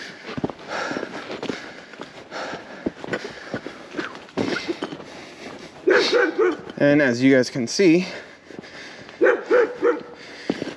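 Dogs bark and yip inside a fenced garden, a few loud bursts near the end, with someone talking over them and footsteps nearby.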